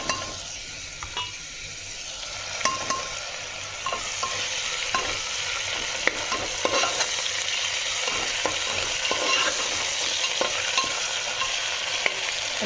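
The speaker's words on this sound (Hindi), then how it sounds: "अच्छी तरीके से चलाती है।" Minced keema stirred and fried in a pan, with steady sizzling and repeated scraping clicks of a spoon against the pan, close and continuous, no speech.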